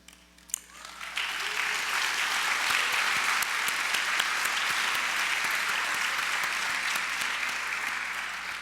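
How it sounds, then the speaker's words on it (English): After a brief quiet moment and a sharp knock, a conference audience at an institute's 20th anniversary event breaks into sustained applause, many hands clapping steadily and evenly for several seconds. "Come on, keep on clapping."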